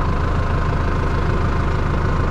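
A tractor engine idles at close range, a loud, steady low rumble with a regular throbbing pulse that holds without change throughout.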